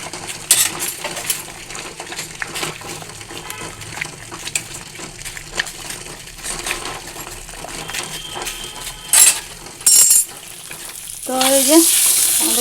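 Eggs frying in oil in a home kitchen, made as egg fry for three people, give a steady close sizzle and crackle throughout, broken by a few sharp utensil clinks and stirring knocks near the end.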